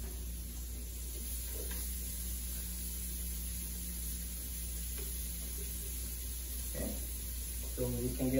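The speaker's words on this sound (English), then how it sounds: "I'm going to briefly saute my onions with my vegetables and my meat." Onions, vegetables and meat sauteing together in a pan, giving a steady, soft sizzle with occasional light stirring sounds, fairly quiet and continuous throughout.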